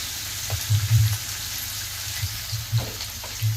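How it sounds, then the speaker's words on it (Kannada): Finely chopped onions frying in a pan for a brinjal-tomato palya, giving a soft steady sizzle with a few low knocks and stirring bumps scattered through it. "ಈರುಳ್ಳಿಯನ್ನ ನೋಡ್ರಿ ಈ ತರ ಸಣ್ಣಗೆ ಕಟ್ ಮಾಡಿ ಚಲೋ ತಂಗಿ ಇದನ್ನ ಫ್ರೈ ಮಾಡ್ಕೋಬೇಕು"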